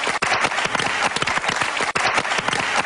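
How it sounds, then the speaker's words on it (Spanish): Crowd applause at a Spanish livestream or show segment, a steady dense wash of many hands clapping, loud and continuous with brief dips, no talk over it. "Un aplauso."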